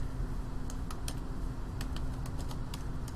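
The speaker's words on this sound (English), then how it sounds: "I apologize for the very poor typing." Keys clatter on a computer keyboard in a quiet room, a sparse string of light taps in small clusters over a low steady hum, with no speech.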